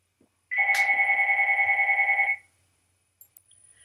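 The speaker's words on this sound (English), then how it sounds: "I have to ignore the phone." A telephone rings once indoors, a steady electronic warble lasting nearly two seconds, loud and close, then stops, leaving a few faint clicks and rustles.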